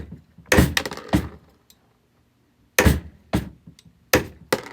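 A homemade murrine chopper cuts glass cane in sharp, loud, close chops, first a quick cluster of three or four strikes, then a pause, then several more single snaps spaced apart.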